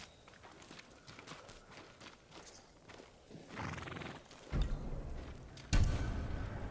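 Samurai horses in the game Ghost of Tsushima shift and clip-clop on their hooves, quiet at first, then build to loud, close neighing and snorting bursts toward the end.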